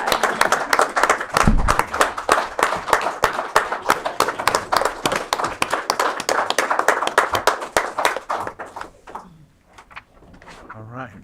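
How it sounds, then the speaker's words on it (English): An audience at a county board of supervisors meeting applauds 4-H youth members, crisp sharp claps from a modest group close by, tapering off toward the end as voices resume. "Give them another round of applause."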